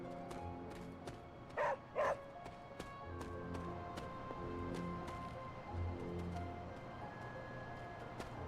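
A dog in the video game Marvel's Midnight Suns gives two short barks close together over a quiet, steady game soundtrack, with no other voices.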